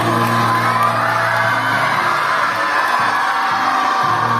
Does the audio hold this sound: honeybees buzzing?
no